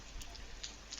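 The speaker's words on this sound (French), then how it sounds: "Je vous laisse un petit peu encore de pluie pour la fin." Rain falls steadily over a winter garden, a soft continuous hiss with faint scattered drops, quiet and alone with no voices.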